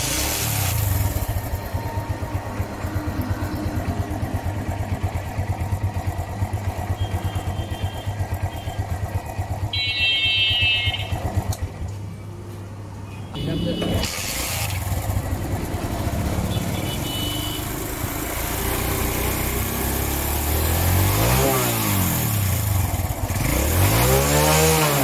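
A TVS Metro motorcycle engine runs steadily after its high-tension coil and CDI are replaced, idling close with a continuous rough putter, a brief dip midway and revs rising and falling toward the end.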